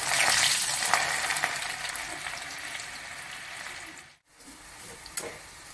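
Garlic frying in hot oil in a pan while making chivda, a steady loud sizzle with crackling that dips briefly to near silence before resuming, with no talking.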